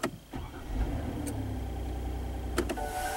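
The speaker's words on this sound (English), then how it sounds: "So I just turned the engine on" A car engine starting up, a brief cranking burst giving way to a steady running hum, with a couple of sharp clicks and a rising whine near the end.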